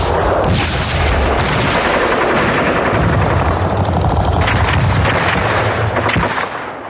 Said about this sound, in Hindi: छुटपुट तौर पर गोलाबारी होती रहती थी।